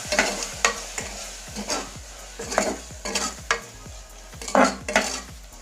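A spoon scrapes and clinks against a pot while chili powder and coriander powder are stirred for country chicken curry, with a soft sizzle underneath and a steady rhythm of strokes, close and moderately loud.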